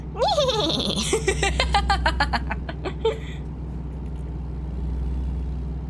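A voice imitates a horse's whinny, a shaky, rising-and-falling bleating cry, then trails off into a low rumbling engine hum from a Kenworth W900 truck in American Truck Simulator.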